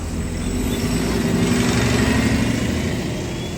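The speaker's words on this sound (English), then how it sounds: "We want to hear the sounds of the rickshaws. That's what that is, a rickshaw device." A motorized rickshaw on Central Park South in New York City runs past with a steady buzzing engine drone, loud and close, amid street noise.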